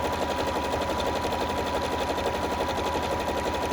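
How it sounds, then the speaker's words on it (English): Bernette 37 sewing machine running steadily through a satin stitch, a fast, even mechanical whir with rapid needle ticking at close range, continuous and alone with no talk. "now we're going to stitch out the satin stitch where you saw me make those adjustments on the machine"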